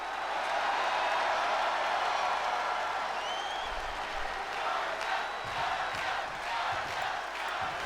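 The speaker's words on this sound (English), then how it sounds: "the crowd's shouting for Angel Garza here" The arena crowd in the wrestling video game WWE 2K22 roars steadily throughout a SmackDown tag team match, a loud continuous wash of shouting and cheering.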